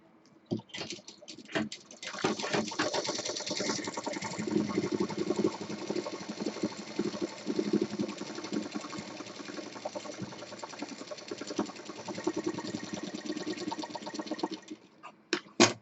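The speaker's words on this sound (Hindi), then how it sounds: "हमें केवल साइड में सिलना है" A sewing machine stitches the side seam of a cloth bag, its rapid mechanical whirring running steadily and close for most of the stretch, starting and stopping with brief clicks at either end.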